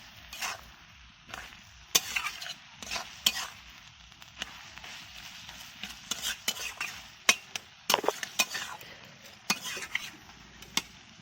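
A metal spatula stirs and scrapes a snail curry in a pan, with irregular clinks and scrapes against the metal over a faint sizzle. There are several sharper knocks and no talking.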